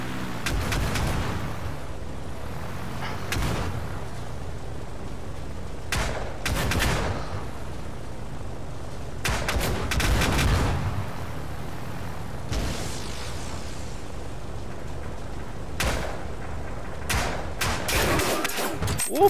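Bursts of gunfire and blasts in the VR game Hover Junkers, loud volleys arriving in irregular clusters with short gaps between them, no talking over it.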